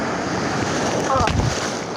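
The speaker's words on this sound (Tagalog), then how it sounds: "Malaki pa yung alon." Rough, continuous rush of large sea waves with wind buffeting the microphone; a brief faint voice cuts through midway.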